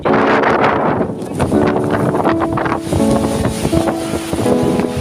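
Strong wind buffets the microphone with a loud roar, while waves churn and crash nearby; no one speaks.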